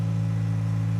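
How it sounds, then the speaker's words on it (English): Car engine running with a steady low mechanical hum and faint clatter, close and continuous, no voices over it. "let me go and turn on the car"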